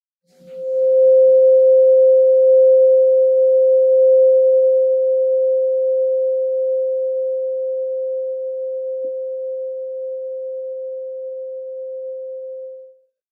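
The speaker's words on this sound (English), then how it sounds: "I'm going to give you a little sampling, a little kiss sound of 528 hertz tuning fork" A 528 hertz tuning fork rings out as a pure, steady tone, loud and close, sustaining for over ten seconds and fading slowly, with no talk.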